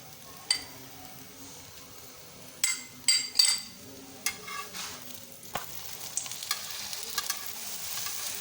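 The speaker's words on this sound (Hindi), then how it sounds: "अब मैं इसके ऊपर हल्का हल्का दोनों साइड से ऑयल लगा देती हूँ।" Radish paratha sizzles in oil on a hot griddle over low heat, a soft continuous fry broken by several sharp metallic clinks and scrapes of a utensil, with no talking.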